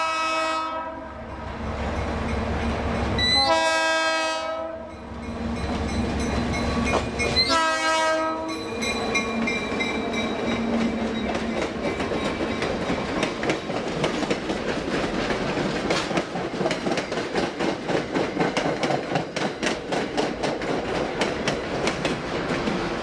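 A passenger train sounds two long horn blasts near a small station in a river gap, then rolls past with steady clickety-clack of wheels over rail joints, loud and close for the remainder.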